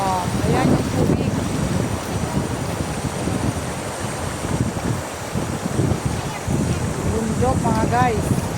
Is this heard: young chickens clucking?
no